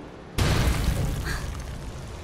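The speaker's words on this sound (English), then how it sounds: "Sounds like this whole thing's falling apart." A sudden loud rumbling crash breaks in and holds as a structure falls apart amid explosions in the Marvel's Avengers video game, a dense low roar that fills the rest of the moment with no voices over it.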